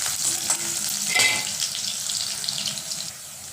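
Mustard seeds, curry leaves and garlic fry in hot oil for a spinach egg dish, giving a close, continuous crackling sizzle with a brief stirring scrape partway through.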